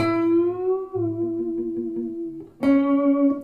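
A sustained electric guitar note bends upward and falls back, then a fresh note is struck and rings with effects-laden sustain.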